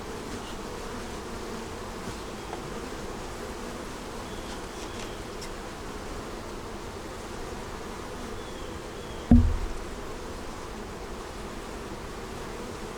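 Honey bees buzz steadily around an open beehive during a check for queen cells, a dense, even drone close by with a single brief knock partway through.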